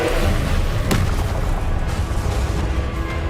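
A Confringo spell explosion in Hogwarts Legacy gives a single loud, sharp blast near the start, followed by a rumbling low-frequency tail under steady game noise.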